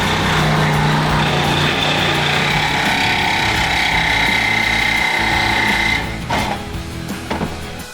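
A power saw cuts the sheet-metal body of a Jeep JKU during a B-pillar chop, a loud, sustained high-pitched whine for about six seconds before it drops off into a few short bursts.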